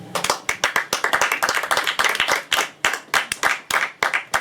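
A church congregation applauds in rhythmic, closely spaced bursts of clapping, loud and near, with no voices over it.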